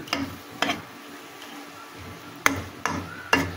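Dasta kachu greens with shrimp are stirred in a pan as they cook dry. A spatula scrapes and knocks in repeated strokes over a faint sizzle, with no talking.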